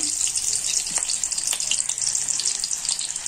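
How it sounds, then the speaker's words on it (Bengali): Onions dropped into hot oil, giving a loud, dense, continuous sizzle close by with faint crackles and no talking. "আমার তেল গরম হয়ে গেছে, পেঁয়াজ দিলাম"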